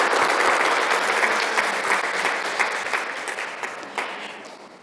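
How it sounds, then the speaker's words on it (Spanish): A church congregation claps loudly and continuously, the applause dense at first and gradually tapering off. "¿Por qué no le damos un aplauso al Señor?"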